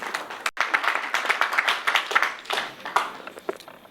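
An audience at an African real estate conference on the office market claps in a dense, steady round of applause that fades slightly toward the end.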